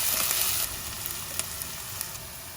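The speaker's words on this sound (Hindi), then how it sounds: "करी पत्ता डालते हैं अभी।" Curry leaves hit hot oil in a kadhai with a sharp, loud burst of sizzling that settles into a steady crackling fry, heard up close with occasional pops.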